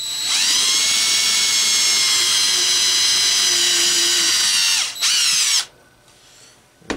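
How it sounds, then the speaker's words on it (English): A power drill bores out a center rivet on a Delmonico FMS-749 AM-FM tabletop radio receiver, a loud steady high whine that holds for about five seconds, dips briefly, surges again, then cuts off into quiet. "I'm going to drill it."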